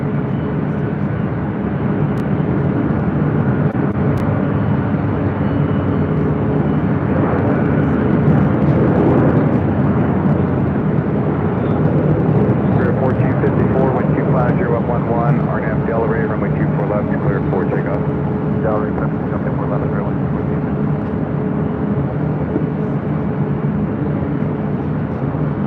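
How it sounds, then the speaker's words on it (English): A Delta Air Lines Boeing 767-300ER jet at LAX, bound for JFK, roars in a steady, loud, unbroken rumble that runs throughout, with a voice talking over it. "Looking at Delta Airlines flight 763 heading to JFK"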